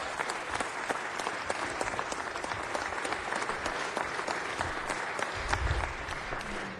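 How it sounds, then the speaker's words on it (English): Sustained applause from a seated audience fills a city council meeting chamber, steady dense clapping of moderate loudness with no voices over it. "We give them a round of applause"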